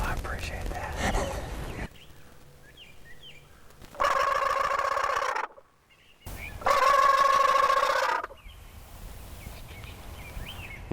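Turkey gobbles ring out during a turkey hunt, two loud rattling bursts of a second or two each, separated by a brief pause, over quiet outdoor background.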